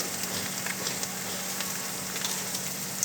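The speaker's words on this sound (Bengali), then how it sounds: "দিয়ে একটু ভালো করে ফ্রাই করে নেবো" Bay leaf, green chilli and spices frying in oil for a green jackfruit and pea dal, giving a constant close sizzle with crackling pops throughout and no talk.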